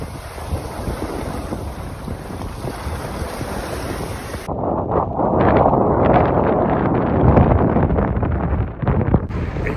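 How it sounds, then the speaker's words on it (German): Strong wind blows over frozen, ice-covered Lake Michigan near Chicago, a loud continuous rumbling roar with gusty buffeting against the microphone that swells midway and keeps surging. "ich hoffe, ihr hört es, und zwar den Wind"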